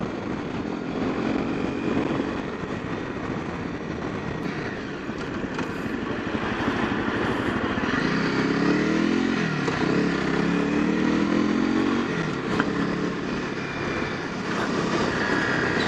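Honda CRF 250 Rally motorcycle engine on a bumpy off-road test ride, a loud steady drone with wind rush and small rises and dips in revs throughout.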